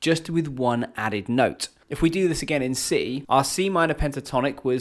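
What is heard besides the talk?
No distinct noise like a dog, phone or traffic.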